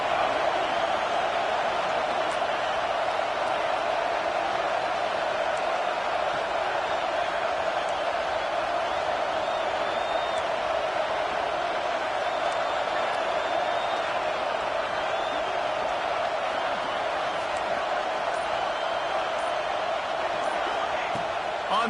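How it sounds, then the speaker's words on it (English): A home crowd at a football game roars steadily and loudly, a dense wall of cheering that holds at an even level from start to finish. "Man, this crowd really affecting the football game."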